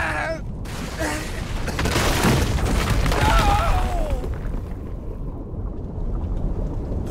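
A thunder and fire attack in the mobile game Dynasty Legends 2 bursts out as a loud booming rumble with crackling blasts that swell and fade, with a voice briefly over the start.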